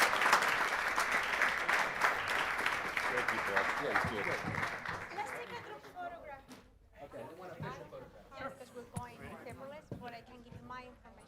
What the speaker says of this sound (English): Let's give our panelists a great round of applause.